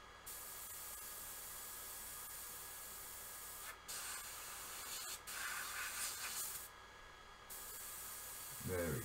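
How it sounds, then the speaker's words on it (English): A Fengda FE-180K budget airbrush sprays only air with no thinner coming through, giving a steady close hiss that cuts out briefly a few times between bursts. "I'm just getting air, I'm not getting any thinner."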